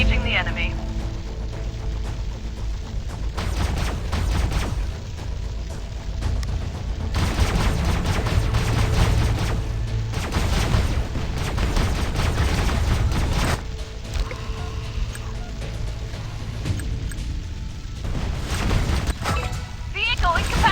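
Bursts of gunfire and explosions in the Last Z: Survival Shooter mobile game, loud crackling volleys coming in waves with short lulls, game voice lines and background music running underneath.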